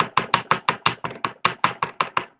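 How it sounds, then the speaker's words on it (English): A hammer flattens coiled wire at the start of a spiral for a celestial moon necklace. About a dozen sharp, evenly spaced metallic taps ring out close and alone. "we can hammer that. It'll kind of flatten all that together a little bit."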